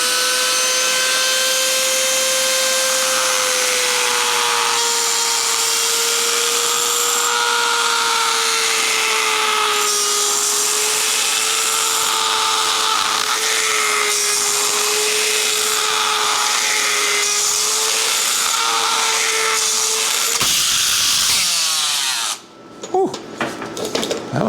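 A steady, loud high-pitched whine of a carbide bit boring through hard material while fabricating a disc brake conversion for a mini bike, running continuously for about twenty seconds before cutting off into clattering.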